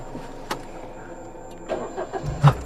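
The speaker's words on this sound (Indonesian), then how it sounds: "Coba hidupin lagi mesin." A car engine cranks and catches during a night scene in an Indonesian horror film set at a former hospital, with a low rumble building near the end after a few sharp knocks, close by and with no talk.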